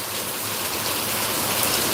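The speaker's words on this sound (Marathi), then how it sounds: "खूप मोठा पाऊस आपण पावसाचा आवाज पाहू शकता" Heavy rain pours down steadily in Degloor, India, in a dense, continuous hiss, loud and close, with no voices.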